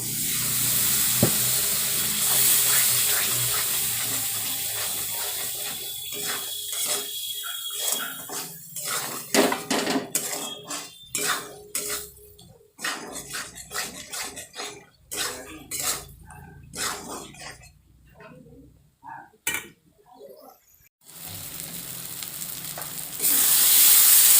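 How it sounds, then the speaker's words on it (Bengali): Spice paste for a rohu-style fish curry (tel jhal) being fried and stirred in oil, with a steady close sizzle and repeated scraping strokes of a spatula against the pan, the hiss swelling and thinning between stirs. "যতক্ষণ না মশলা থেকে তেল ছাড়বে ততক্ষণ মশলাটা এইভাবে কষাতে হবে"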